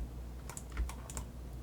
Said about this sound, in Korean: 키보드상에서 Delete.